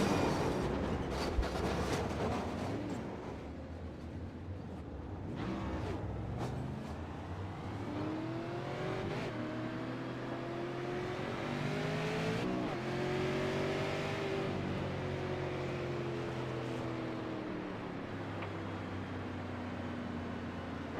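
Race cars at New Smyrna Speedway under a caution, engines droning steadily with rising and falling revs as cars roll down pit road, a continuous loud mechanical roar with no talking.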